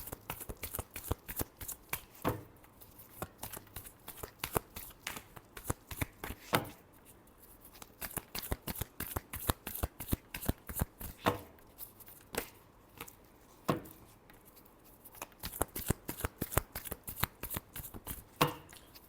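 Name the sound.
shuffling a deck of tarot cards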